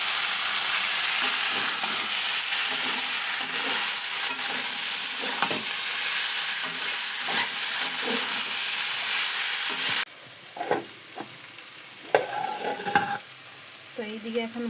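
Boiled potatoes and soybeans sizzle loudly in a pan of cooked-down spice masala with scattered stirring scrapes, and the frying turns softer and quieter partway through.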